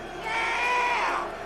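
A virtual arena crowd in the boxing game Fight Night Champion swells into a brief, rising cheer with high shouts, then eases off.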